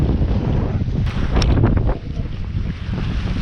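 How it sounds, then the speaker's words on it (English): Steady, loud wind buffeting the microphone in low rumbling gusts on a fishing bank, with faint water lapping beneath, continuous throughout. "Friggin' windy."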